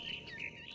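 A bird chirps in the video game What Remains of Edith Finch, a brief, faint run of high warbling tweets over a soft low background hum.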